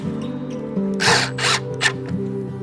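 A power driver sets screws into timber to fit a door hinge, three short whirring bursts over a steady background hum.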